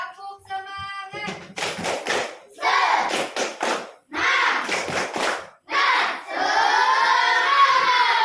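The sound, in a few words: classroom children doing a rhythmic clapping chant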